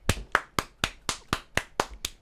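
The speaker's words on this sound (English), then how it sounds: "Clap." Nine crisp, evenly spaced hand claps in a steady rhythm, close and distinct, with a brief quiet gap between each one.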